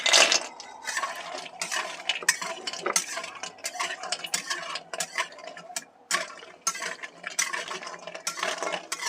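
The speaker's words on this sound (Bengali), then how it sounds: "এবার বড়িগুলোকে ভেজে নেব।" Lentil dumplings (bori) fry over a low flame in a little oil while a spatula or spoon stirs them in the pan, giving repeated sharp clinks and scrapes over a faint sizzle, with no talking.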